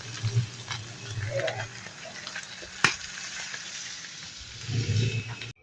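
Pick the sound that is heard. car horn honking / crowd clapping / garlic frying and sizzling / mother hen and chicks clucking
garlic frying and sizzling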